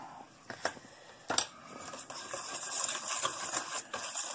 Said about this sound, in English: We're going to whisk that up.